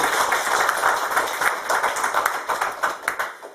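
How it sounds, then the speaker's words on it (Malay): An audience at a corporate presentation about a soy extraction factory bursts into steady applause, a dense wash of clapping hands that holds for several seconds, moderately loud and without speech. "Beri tepukan kepada saya."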